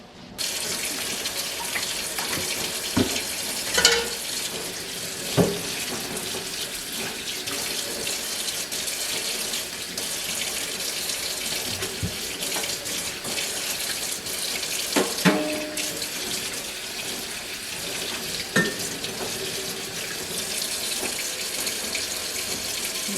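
Tap water runs steadily into a kitchen sink to make soapy water for washing a sticky fig-coated pot, a constant close splashing rush with occasional clinks and knocks.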